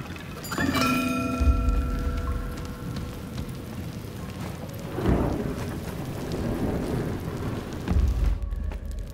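Steady rain pours throughout a stormy scene in the samurai video game Trek to Yomi, with deep rolling thunder rumbling in several swells and a sharp crack midway, no voices present.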